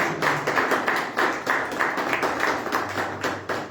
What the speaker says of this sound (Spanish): ¿Cuánto le dan aplauso al Dios de la gloria?